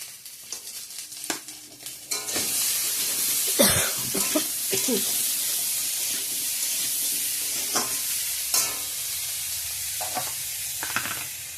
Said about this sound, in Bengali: একটু ভাজা ভাজা করে নেব, বাকি মশলাগুলো পরে দেব।